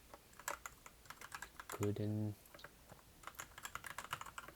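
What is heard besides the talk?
fast typing on a computer keyboard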